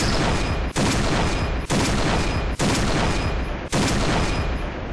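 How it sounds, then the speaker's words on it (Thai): Sniper rifle shots from the video game Point Blank: five evenly spaced, loud booming reports, each followed by a long ringing decay. "ก็ใช้การยิงโดยการคลิกเดียวนะครับแล้วเดี๋ยวเขาก็จะซูมแล้วก็สับปืนให้เราเองนะครับ"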